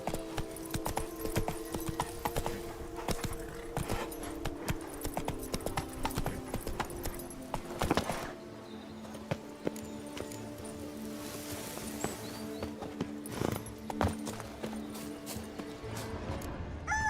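Horse hooves clip-clop in a steady galloping rhythm across open meadows and woodland in the Witcher 3 game, close and moderately loud, with a faint whinny and soft rustling mixed in.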